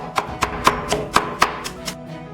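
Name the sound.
chopping scallions and cabbage into mince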